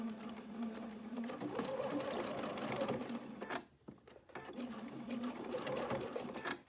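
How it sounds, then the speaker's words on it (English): A sewing machine stitches through the thick layers of a polo shirt placket, a close, steady motor whir that stops briefly, then starts again at the same pace. "I'm going to give a little bit of tension to help my machine to get over all the thicknesses"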